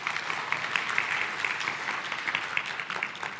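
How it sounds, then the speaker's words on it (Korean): An audience at an entrepreneurship awards concert applauds warmly, many hands clapping in a dense, even patter that carries on without a break. "다시 한번 박수 부탁드립니다."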